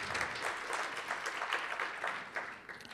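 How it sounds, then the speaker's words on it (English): Audience at a university lecture at The New School breaks into sustained applause, a dense, steady wash of many hands clapping throughout with no talking over it. "Everybody give her a big round of applause."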